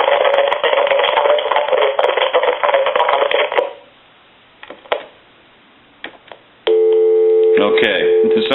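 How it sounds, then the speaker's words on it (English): A landline telephone line at a telephone repair setting gives a steady tonal signal, first a busy-like tone for several seconds, then quiet clicks, then a loud continuous multi-tone signal toward the end. "I'm going to call my number, and it's going to be busy."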